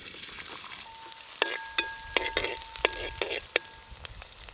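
Oil with cumin and sliced big onion sizzling in a pan during tempering, a bright steady fry punctuated by several crisp spatula strikes and scrapes, close up with no speech.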